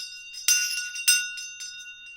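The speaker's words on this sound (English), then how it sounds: "the shang bell," A Tibetan shang bell struck twice in a quiet space, each bright metallic strike ringing out with a long shimmering sustain, followed by faint softer chimes as the tone fades.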